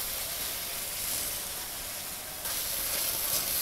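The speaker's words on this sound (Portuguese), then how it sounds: "Agora eu coloco 500 gramas de patinho moído." 500 grams of lean ground beef lands in a hot pan and sizzles with a broad, steady hiss that jumps louder partway through, close and continuous with no talk.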